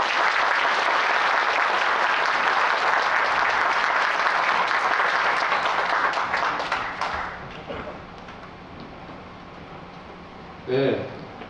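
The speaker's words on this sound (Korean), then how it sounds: "다시 한번 힘찬 박수를 보내주시기 바랍니다" An audience applauds at the close of a lecture by professor Kim Nu-ri, a dense, loud burst of clapping that holds for several seconds, then fades away, followed by a brief spoken voice.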